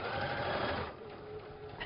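A sewing machine runs on its own without a foot pedal, a steady mechanical whir that drops in level partway through and continues faintly.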